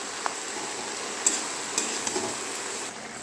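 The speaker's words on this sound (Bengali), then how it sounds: "দেখো লাউ ফ্রাই করছি এবারে।" Bottle gourd fries in a pan and is stirred, a steady soft sizzle with a few sharp scrapes and taps of the spoon, close and fairly quiet, with no one talking.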